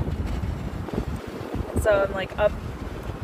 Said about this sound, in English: the wind is epic. It's like blowing my eardrum out.